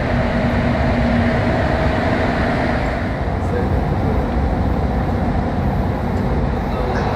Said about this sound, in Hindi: ये देखो ये कतर की मेट्रो ट्रेन है। अभी देखो इसकी फास्ट स्पीड अंडरग्राउंड है।